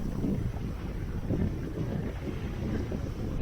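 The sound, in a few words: wind picking up while sailing close hauled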